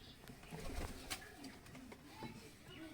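Domestic breeding-pair pigeons coo softly in a loft, low murmuring calls recurring over steady background noise, with a person talking at times.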